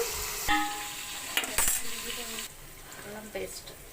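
Chicken biryani masala with green chillies frying and being stirred in a pan, a steady loud sizzle broken by a few sharp scrapes and clinks of a spoon against metal, with no talk.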